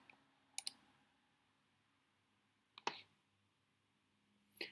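Computer mouse clicks during setup of business software: three isolated sharp clicks spaced a couple of seconds apart, close and crisp against near silence.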